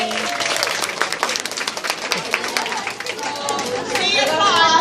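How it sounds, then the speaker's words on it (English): A seminar audience claps together at a nutrition and motivation seminar, a dense burst of applause mixed with chatter and voices, swelling louder toward the end. "Clap it up."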